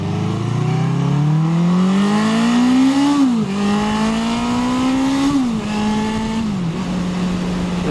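A 1981 Honda CB750K motorcycle accelerates while riding, its engine note climbing steadily through the gear, then dropping at each upshift and climbing again, loud and close with constant wind rush.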